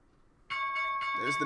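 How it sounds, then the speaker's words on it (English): A stock market opening bell played on a live day-trading stream, a sustained ringing tone with steady harmonics that starts abruptly partway in and holds loud to the end. "There's the bell."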